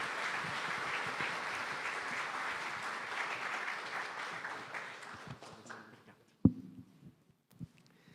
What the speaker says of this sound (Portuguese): Vamos recebê-lo com uma calorosa salva de palmas.